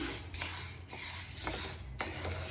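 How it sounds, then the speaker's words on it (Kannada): Horse gram dry-roasting in a pan while being stirred, a steady dry rustling scrape with periodic louder sweeps of the spoon roughly every half second to second, close and continuous without speech. "ಇವಾಗ ಹುಳ್ಳಿಕಾಳನ್ನ ಹದವಾಗಿ ಹುರಿಬೇಕು."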